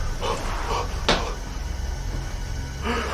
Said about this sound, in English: Somebody just pounded on that door.